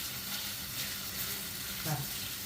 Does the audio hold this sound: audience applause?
no